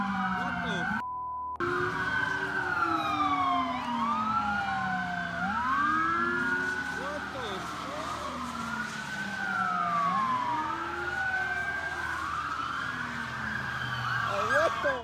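A pack of police car sirens wailing in pursuit of a stolen ambulance during a high-speed chase, several overlapping rising and falling wails sustained throughout, loud and close, with traffic noise beneath.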